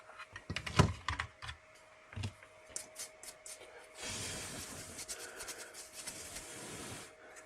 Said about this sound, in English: Just wiping the dust off the graphic card.